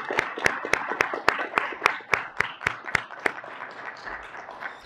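Audience members at a public health ethics forum applaud the planning committee with a string of evenly spaced, fairly close claps that grow softer and thin out toward the end.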